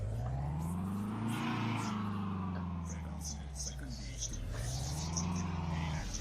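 A Renault Symbol car engine in Euro Truck Simulator 2 hums steadily at mid pitch, its note rising and falling as the car revs and shifts, with a voice talking over it.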